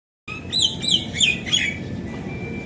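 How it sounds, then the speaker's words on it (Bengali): Birds chirping near a balcony on a rainy day, several quick bright tweets in a short burst, clear and close, then a faint thin call trailing off over soft background hiss. "আর এইদিকে পাখির গুজন"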